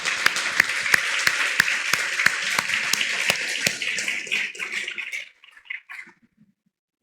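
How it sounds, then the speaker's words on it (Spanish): A church congregation at a Sunday service applauds, with loud, regular, rhythmic claps close by over a bed of many hands, fading out and falling nearly silent after about five seconds. "pero aplaudamos al Señor"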